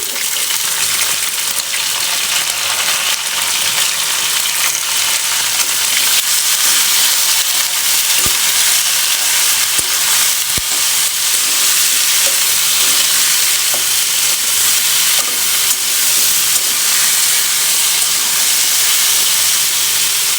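Cauliflower and potato pieces frying together in a pan of oil give a loud, continuous, hissing sizzle that stays even and close for the whole span, with only a few faint ticks.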